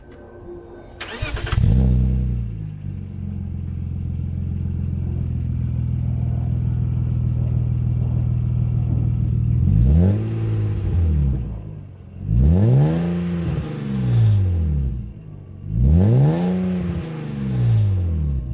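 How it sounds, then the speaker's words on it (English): A BMW E36 323i cranks and starts, settles into a steady idle, then revs three times in rising and falling swells, loud and close, with a slight exhaust rattle. "I'm going to start up the car, let you hear it"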